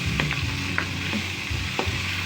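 Sautéed bottle gourd seasoned with pepper sizzles in a pan while a utensil stirs it, giving a close, steady hiss with repeated quick scraping strokes.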